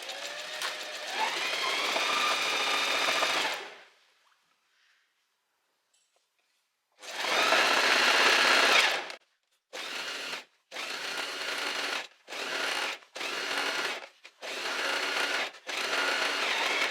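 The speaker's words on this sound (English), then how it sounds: "we're just gonna sew in one full circle now" Sewing machine stitching a full circle around a dress with stitch length set to 3, first a long continuous run, then a pause, then a series of short separate bursts of stitching, close and clear.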